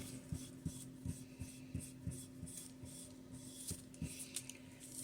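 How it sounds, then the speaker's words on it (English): A transfer sheet being lightly pressed and rubbed onto a coaster by hand for a Christmas gift, giving soft, scratchy rasping strokes in a fairly steady rhythm, close up and quiet, with no talking. "we're going to just lightly press and rub."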